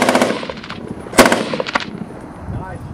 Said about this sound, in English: we're here at our open range shooting with Travis